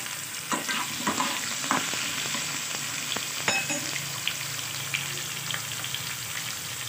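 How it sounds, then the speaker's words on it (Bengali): Potatoes frying in a pan with a steady, close sizzle, broken by a few sharp clicks and stirring scrapes, with no talking. "আলুগুলোকে একটু ভালো করে ফ্রাই করে নেব প্রথমে।"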